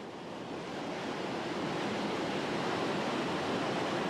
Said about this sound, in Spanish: El Lisson sale a la superficie a través de una inmensa apertura tallada en el acantilado de caliza